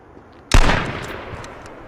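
A single gunshot in the battle royale video game H1Z1, a sharp loud crack with a short reverberant tail that fades over about a second and a half.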